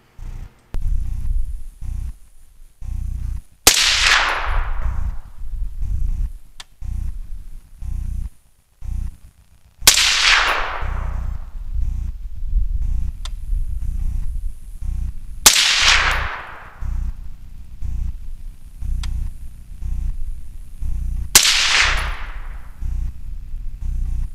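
A 6.8 SPC rifle fires four sharp, loud cracks roughly six seconds apart, each with a brief decaying tail, over a steady low background rumble.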